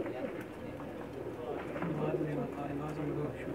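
Pakistani pigeons coo softly on a rooftop in Jeddah, Saudi Arabia, with low repeated coos under someone talking nearby and light scuffling sounds.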